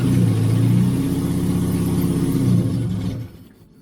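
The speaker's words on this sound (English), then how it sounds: "The engine sounds quite sweet." A 1989 Austin Mini's 998cc A-series engine, run after sitting in a garage for three years and seemingly short of fuel, hums steadily up close with an even pulsing tone, then dies away after about three seconds.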